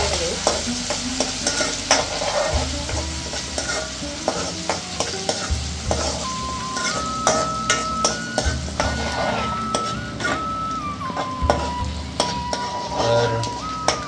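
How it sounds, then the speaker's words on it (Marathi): Onion frying and being stirred in hot tempering oil, a steady crackling sizzle with repeated scraping stirs throughout, close and fairly loud, with no talking. "कांदा थोडा लाल होईपर्यंत परतून घेऊ"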